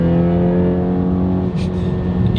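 A Ford Focus ST running E30 fuel drones from inside the cabin, its engine humming steadily with a rising whirring tone as the turbo spools, continuous and fairly loud.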